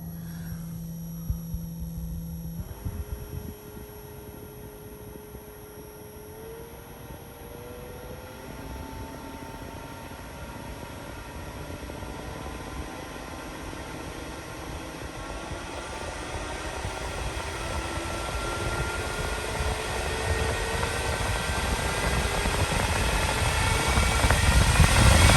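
A RoadPro Tornado 12-volt clip fan mounted on a car dashboard runs with a steady broadband whoosh after a brief startup whine, its airflow noise growing gradually louder and denser over the span, with no talking.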